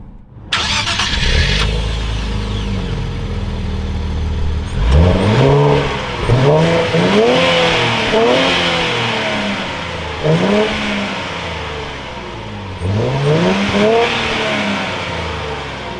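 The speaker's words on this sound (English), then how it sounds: "keep my foot on the clutch and go ahead and fire it up" A 2024 Nissan Z with manual clutch cranks and fires up close by, settling into a steady idle punctuated by several sharp throttle blips that rise and fall, loud with no talking.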